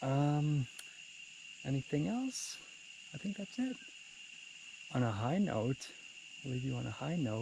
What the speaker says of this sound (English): It's cicada season. You can hear them in the background a little bit.